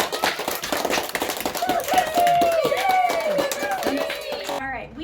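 Applause from a school awards assembly crowd, a dense patter of many hands clapping at moderate distance, with a voice speaking over it before it cuts off.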